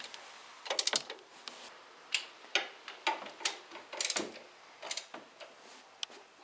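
Tightening timing belt components on a Fiat/Ford 1.2-litre engine with a ratchet, a series of sharp close clicks and short ratcheting bursts in an uneven rhythm, with pauses between strokes.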